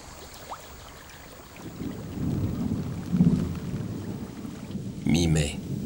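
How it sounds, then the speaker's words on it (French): Rainy-season evening thunderstorm with steady rain and rolling thunder, rumbles building and swelling midway, with a sharper crack near the end under continuous rainfall. "plus les orages qui surviennent surtout le soir sont fréquents et violents"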